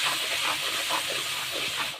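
Spice masala with ginger paste, turmeric and salt fries in hot oil with a loud, dense, steady hiss and sizzle, close up and unbroken for about two seconds before cutting off abruptly.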